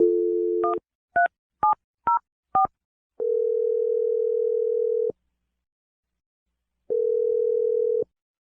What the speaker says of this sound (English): We're going to dial her phone number right now.